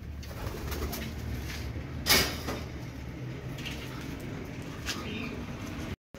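Racing pigeons arriving back at a loft coo softly against a steady background hum, with a brief sharp clatter partway through and a quiet voice in the distance.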